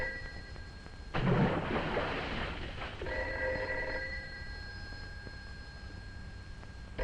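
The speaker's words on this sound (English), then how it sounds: "Of all the cockeyed times for the phone to ring." An old telephone rings in a 1950s film. Short tonal bell bursts sound against a quiet, hissy background, broken by a brief noisy thump, with no talk.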